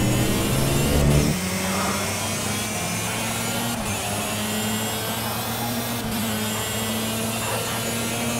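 Racing kart engines drone steadily in the Project CARS Dubai Kart Masters Cup, a loud layered buzz that shifts pitch as karts jostle and overtake, with a slight drop in intensity early on.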